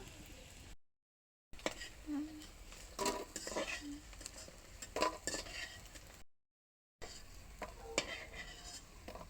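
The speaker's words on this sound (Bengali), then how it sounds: "আমি বড়া করছি।" Bora fritters frying in hot oil in a home kitchen, a soft sizzle broken by the clink and scrape of a stirring utensil against the pan, with a few brief gaps and a voice speaking now and then.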